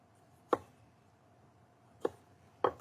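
A knife chops crisp pickled onions on a cutting board, three sharp separate strikes spaced apart, quiet and close with little else around.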